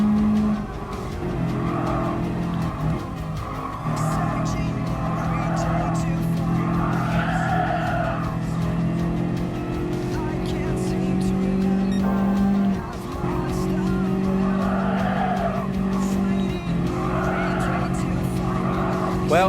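A Honda Kei car races in Gran Turismo Sport, its small engine droning steadily with rising and falling revs and tire skids throughout, under ongoing commentary from a player.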